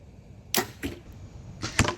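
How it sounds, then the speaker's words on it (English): Arrows striking an archery target, a series of sharp thwacks, two spaced apart and then a close pair near the end, the last a harder hit as one arrow strikes another already in the target. "Robin Hood when one arrow hits another arrow"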